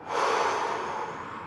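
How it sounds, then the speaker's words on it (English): A single deep exhalation from a person during a breathing exercise, a close, steady airy rush that lasts about a second and a half before tapering slightly. "and breathe out."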